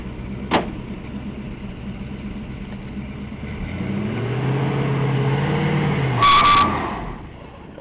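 A 1981 Chevy C20 truck's engine idles, then climbs into a sustained loud rev for a burnout, holding high before dropping back, with a brief squeal near the end.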